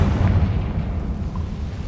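Confringo spell explosion in Hogwarts Legacy, a booming burst at the start whose rumbling tail slowly fades, loud and close with no talking.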